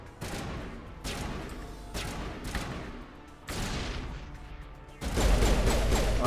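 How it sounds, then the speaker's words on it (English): Explosions boom and crackle in the Mass Effect game after a thrown grenade goes off: several sharp loud blasts in a row, each with a rumbling tail, and a heavier sustained burst at the end. "hit G while it's flying to detonate"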